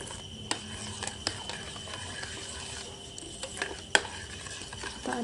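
A spoon stirs avocado chocolate pudding mixture in a pot, with close scraping and clinking strokes that come in irregular bursts and sharp taps, with no talking.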